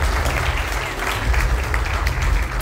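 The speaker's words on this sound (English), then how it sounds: "let's big round of applause for all these amazing people" A panel audience at a cannabis cup event breaks into sustained applause, a thick continuous clatter of many hands with a low rumble underneath and no speech.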